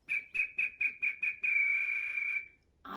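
A man whistles an imitation of a bird call: six short, evenly spaced chirping notes, then one long sustained note that fades. The whistling is close, clear and heard alone.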